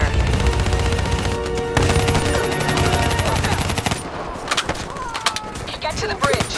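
Sustained automatic gunfire as covering fire in the Call of Duty Black Ops III campaign, rapid dense bursts rattling loudly throughout with shouted voices and explosions mixed in, thinning toward the end into scattered shots.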